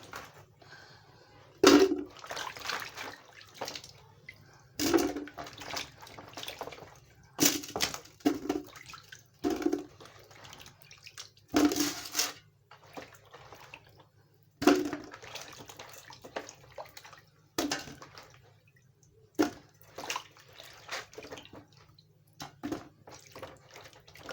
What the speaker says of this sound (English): So I'll be washing this yam that was peeled.